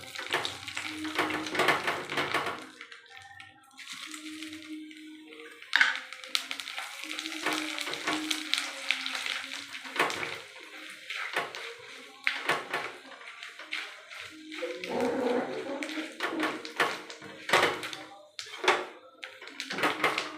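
Paneer fries in a hot pan with bursts of sizzling and crackling oil, broken up by stirring and scraping, moderately close and uneven in intensity, with brief quiet gaps.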